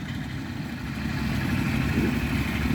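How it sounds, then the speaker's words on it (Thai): A walking tractor engine idles in a wet rice field, a steady low throbbing drone that swells slightly louder partway through, with no talk. "ขับรถไถเดินตามนะ"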